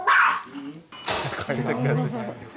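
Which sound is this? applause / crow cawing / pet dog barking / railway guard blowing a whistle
pet dog barking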